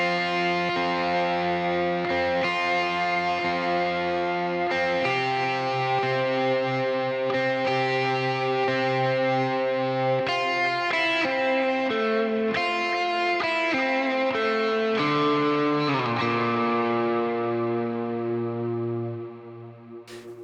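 Distorted electric guitar part played through a Boss GT-1000 multi-effects unit on its Ultimate Patch, sustained chords and riffs ringing loud and continuous for about twenty seconds, alone without any talk, ending in a brief fade.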